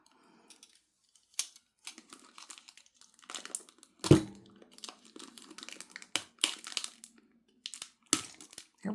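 Tape and packaging being ripped open on a taped jewelry parcel, a series of short crinkling, tearing bursts with one sharp louder crunch in the middle, close and fairly quiet.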